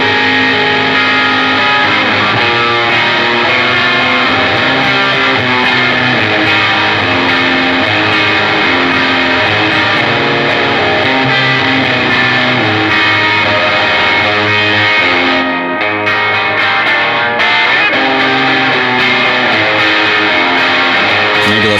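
Electric guitar played through the gain side of a modulation and delay pedal, a thick, loud distorted tone with sustained chords and notes ringing continuously, with a brief break near the end.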